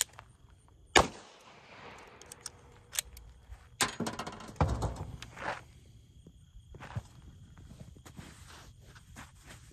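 A .357 Magnum revolver fired point-blank into a bulletproof pillow gives a sharp close crack, followed by metallic clicks, shuffling and handling noises outdoors.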